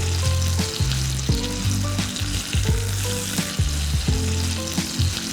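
Dried yellow croaker sizzling steadily in a hot pan, a constant loud frying crackle with occasional clinks and scrapes of a utensil against the pan.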